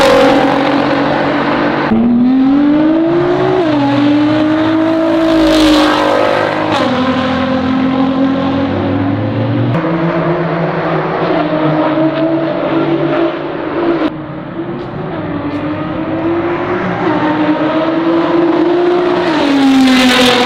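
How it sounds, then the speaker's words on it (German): A Nissan GT-R race car roars past on the Spa-Francorchamps track, its loud engine rising and falling through gear changes over a long stretch, close and alone, with no talk. "Dein Auto ist utopisch laut."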